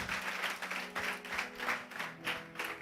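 A congregation applauds during a church service, a steady, even wash of clapping held at moderate distance throughout, with no voices over it.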